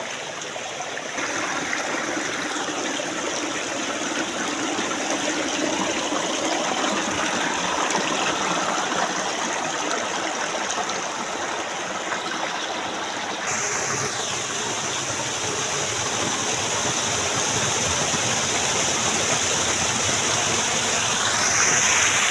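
A forest stream or small river flows steadily and close by, a continuous broadband rush of water that holds constant with no voices over it.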